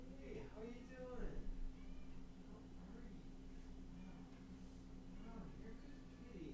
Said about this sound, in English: Oh, you're a good kitty.